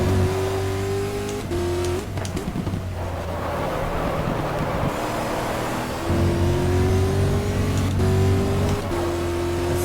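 A race car in the GTR2 racing game at full throttle on the Spa-Francorchamps circuit, engine whining and climbing loudly through gear changes over steady wind noise.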